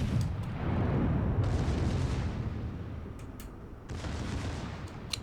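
Main guns of the battleship Ohio firing in World of Warships, heavy booming salvos that roll into a long low rumble, with a second blast later over steady engine and sea noise.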